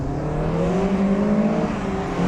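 Volkswagen Golf GTI cars accelerate hard in a drag race, a loud, close engine note climbing steadily in pitch through the gears with no break, no voices over it.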